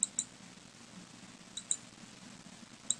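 A computer mouse clicks sharply in small clusters, two or three quick clicks at a time with pauses between, faint against a quiet room hum.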